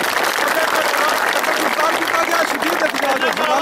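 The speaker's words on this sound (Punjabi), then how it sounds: "ਤਾੜੀ ਹੋ ਜਾਏ" A crowd at a load-shedding protest in Sar Suba Shah, Kallar Syedan, claps in a dense, steady burst of applause, mixed with voices throughout.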